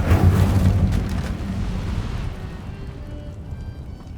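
A fire spell cast in the video game Hogwarts Legacy: a loud, deep whooshing burst of flame at the start that rumbles on and slowly fades into a low, dying roar.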